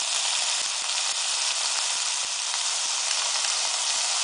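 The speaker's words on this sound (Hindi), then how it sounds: "गैस को सिंपर करके इसमें सॉसेस डालेंगे। सबसे पहले सोया सॉस डालेंगे।" Soy sauce goes into a pan of sautéed vegetables over low gas, raising a steady, loud sizzle and hiss that runs unbroken throughout, with faint rattling ticks underneath.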